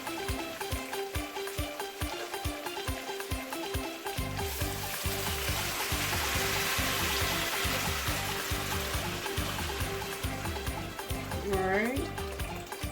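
Water poured into a pot of browned stewed goat meat, a loud sizzle and bubbling rush that swells as the liquid hits the hot pan, with a voice talking over it.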